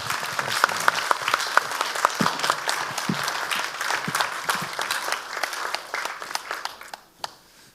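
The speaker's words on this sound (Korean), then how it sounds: "목사님 나오실 때 큰 박수로 환영해 주십시오" A church congregation at a Sunday evening service applauds steadily for several seconds, dense clapping that gradually thins out and fades to a few last claps.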